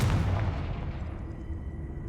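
A Confringo fire spell bursts in Hogwarts Legacy, a loud booming blast that hits at once with heavy low rumble and then fades out over about two seconds, heard alone.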